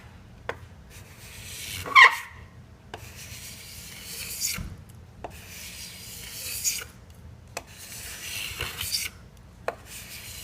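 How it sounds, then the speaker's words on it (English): Repeated dry scraping strokes of a scraper blade flushing wooden binding on a guitar body, close and fairly quiet, in uneven rhythm with brief pauses between passes. "You hear that wood, start to hear that wood scraping on the wood"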